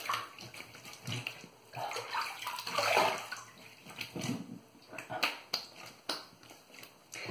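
Water splashes up close as a face is rinsed after shaving, in irregular wet bursts and trickles with no talking.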